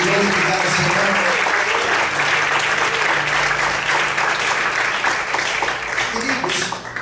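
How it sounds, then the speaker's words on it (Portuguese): Congregation in a church service clapping, dense, sustained applause filling the room, with voices talking and calling out beneath it throughout. "Você pode desocupar a sua mão e aplaudir, exaltar e glorificar o Senhor."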